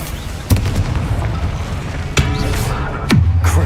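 Confringo and Bombarda blast spells in Hogwarts Legacy, three loud separate explosive booms, each a sharp crack followed by a deep rumbling tail, over steady game ambience.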